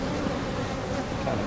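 Honeybees buzz in an opened hive of a queenless colony, a steady, dense drone that holds evenly throughout without pause, with no talking.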